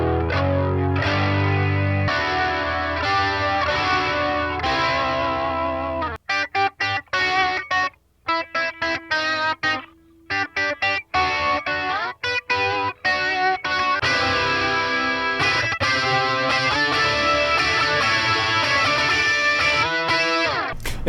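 Electric guitar through a Boss Katana MK2 amp on its Centa OD overdrive setting, a T-Screamer style drive dialed to a somewhat clean, lightly dirty tone, playing loud sustained chords and then choppy, stop-start riffs with brief gaps.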